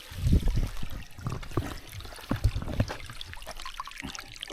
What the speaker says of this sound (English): At the third waterfall now.